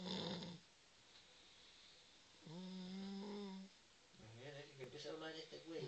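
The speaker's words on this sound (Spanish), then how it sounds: "ronca" Snoring from a sleeper: a few separate droning, rasping breaths, each lasting about a second, quiet and close, with short silences between them.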